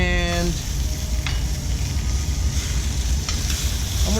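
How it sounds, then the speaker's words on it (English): Pork country ribs sizzle steadily in a Dutch oven, a continuous close frying hiss with a few brief clinks of utensils against the pot. "put the ribs back into the Dutch oven"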